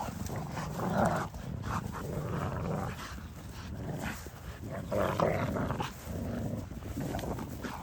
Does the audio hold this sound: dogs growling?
yes